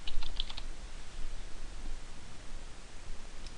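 Quick, light key taps come from a computer keyboard in a short burst of typing, faint and close, over a low background hiss.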